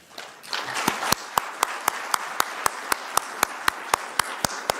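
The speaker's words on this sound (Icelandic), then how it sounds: "Við skulum gefa þeim gott klapp." A meeting audience claps for the participants, starting with a brief burst of mixed clapping that settles into a steady, evenly spaced rhythmic beat of sharp claps close by.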